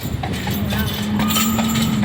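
A horse's hooves clop on pavement in Savannah under steady traffic noise and a low engine hum, the footfalls irregular and fairly close.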